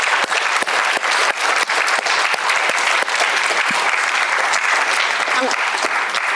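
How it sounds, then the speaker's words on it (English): An audience applauds a startup panel at a conference, sustained dense clapping that stays loud and steady from start to finish. "Round of applause."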